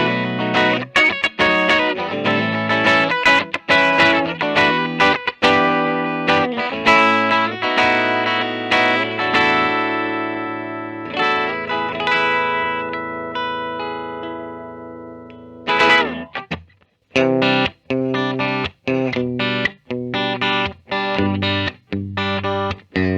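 Epiphone Joe Bonamassa Les Paul electric guitar from 2020 in the middle pickup position, played loud and alone with processed, chorus-tinged distortion: ringing strummed chords and single notes, a sustained passage, then choppy rhythmic stabs with short gaps.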